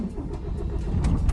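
A parked truck's engine cranks and catches during a battery check at a weekend lorry park in Skelmersdale, UK, a close, steady low rumble that builds slightly toward the end.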